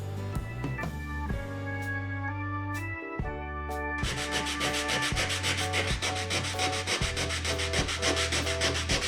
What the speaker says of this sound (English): To do that, we'll use 150 grit sandpaper.